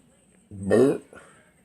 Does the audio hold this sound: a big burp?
yes